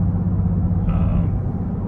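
A Dodge Durango engine in sport mode gives a steady low rumble heard from inside the cabin, with a faint rise in tone partway through and no talking.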